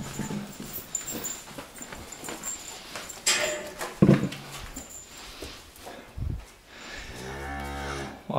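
Cattle moo from a barn, one long low moo clearly audible near the end, amid shuffling and background farm noise, as the cows react to a car arriving with fresh-cut grass.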